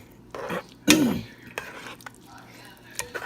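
Crab meat is stirred into a cornbread dressing mixture in a bowl, heard as a few scraping, clinking utensil strokes with short gaps between them, with a soft voice briefly underneath.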